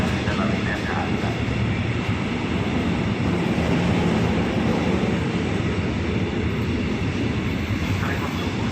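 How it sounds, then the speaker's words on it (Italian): A train arrives at Milano Lambrate station, a steady loud rumble of wheels and carriages filling the whole span with no break. "treno proveniente da Bergamo, verso la Milano Centrale, le ore 11:48 in arrivo a binario"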